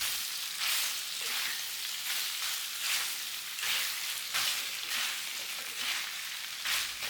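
Spare ribs stir-fried with bean sauce in a wok, a continuous close sizzle with rhythmic swells as the pieces are tossed and scraped, no voices.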